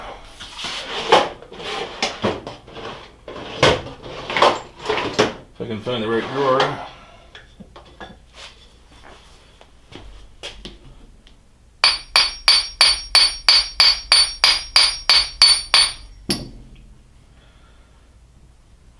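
Roughly a dozen sharp, evenly spaced hammer taps on a stuck gear of a South Bend lathe under restoration ring out loud and close, following a stretch of talking and rummaging through drawers.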